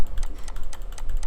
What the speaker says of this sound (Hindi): देखिए क्लिक कर रहा हूँ, क्लिक नहीं हो रहा।